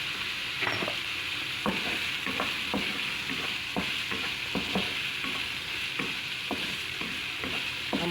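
Vegetables and rice stir-fried in a pan, a steady close sizzle broken by repeated scraping strokes of a spatula roughly every half second, with no voices over it.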